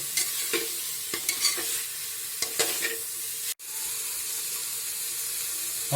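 Pork frying in a pan is stirred with a utensil, giving soft, steady sizzling and a few sharp scrapes and clinks at irregular intervals, fairly quiet, with no talking.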